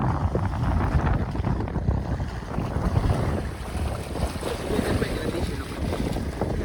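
Water waves churn and splash steadily against a small boat, mixed with blustery wind buffeting the microphone.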